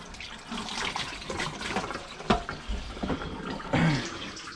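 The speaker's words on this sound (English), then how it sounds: "Wash my hands." Running tap water splashes over hands being washed at a kitchen sink while cooking crappie, a steady close gush with a few louder splashes and no talk.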